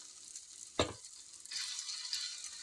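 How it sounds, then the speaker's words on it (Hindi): Ghee sizzling under a corn flour roti on a hot pan, a soft knock followed by a steady close crackle. "तकरीबन 1-2 मिनट के बाद आप इस पे जब रोटी हिलने लगे तो आपने इस पे घी लगा देना है"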